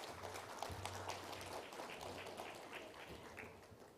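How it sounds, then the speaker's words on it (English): At a pensions conference panel session, the audience gives the panelists a round of applause, a dense even patter of many hands clapping at a moderate distance and fading slightly toward the end. "Let's have a huge round of applause for our panelists."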